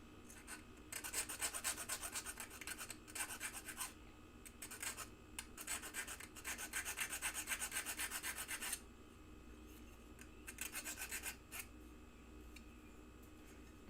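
A hand file rasps a rough nub smooth in quick bursts of close, repeated scraping strokes, with short pauses between the runs and no voices.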